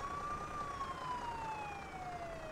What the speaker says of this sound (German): Jetzt geht aber hier richtig Sirenenalarm los hier